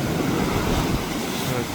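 Sea waves wash steadily against the shore near Kanyakumari while shellfish are gathered, a continuous broadband surf roar with some wind buffeting on the microphone.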